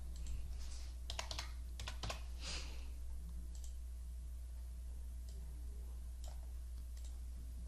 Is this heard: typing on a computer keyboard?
yes